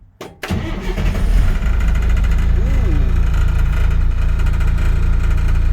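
The diesel engine of an International S1900 dump truck cranks briefly, catches and rumbles to life, then settles into a loud, steady idle close by, on a cold morning.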